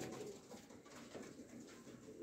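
Teddy pigeons coo softly in a loft, a few low, rounded repeated calls at a quiet level with no talk over them.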